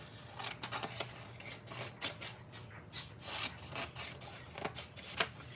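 Scissors cut words out of paper for a collage, making soft, irregular snips and rustles at close range, quiet with no speech.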